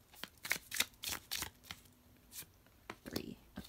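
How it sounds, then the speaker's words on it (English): Tarot cards from a kawaii-style deck are drawn and slid out one after another, giving a string of short, crisp papery flicks and snaps, close and fairly soft, with light speech-like sounds in between. "let's just go ahead and pull three cards"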